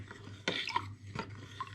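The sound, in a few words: stirring oak chips into whiskey spirit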